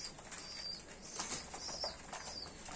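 Birds, pigeons or doves, fluttering their wings around a feeder, soft and fairly distant, with a few faint chirps mixed into the flapping.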